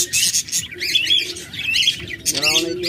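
Budgerigars kept as active breeding birds chirp and chatter nonstop, a dense close flock of shrill tweets and squawks, with a brief louder call near the end.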